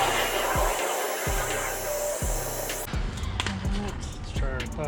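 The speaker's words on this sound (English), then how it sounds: "We're going to use a heat gun, heat this up, heat the adhesive so we can get this to pop out." A heat gun blows a steady, loud hiss while warming the adhesive behind an orange reflector on a BMW G82 M4 or G80 M3, with rhythmic thumps and a voice speaking.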